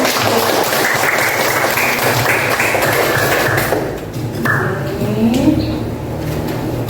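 A classroom of people claps together for several seconds, then the applause drops off abruptly, leaving quieter scattered noises and faint movement.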